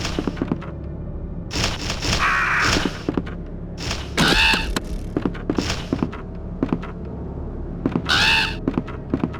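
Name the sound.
crows cawing in video game Resident Evil 2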